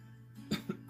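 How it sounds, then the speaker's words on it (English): Two or three soft, close coughs from a man recovering from a cold, faint over a low steady hum, with no talking. "just coughing up some of the little remainder stuff"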